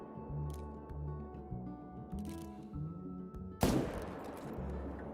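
Rifle shots ring out at animals in a hunting video game: one sharp, loud crack stands out late among quieter rumbling game ambience, with faint clicks and shuffling earlier.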